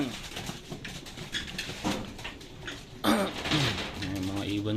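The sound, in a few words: pigeons cooing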